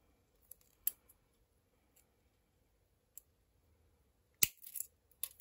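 Scissors snip through the material of a handmade spiral-bound journal, giving a few quiet, scattered clicks followed by one louder crisp cut near the end, with no talking.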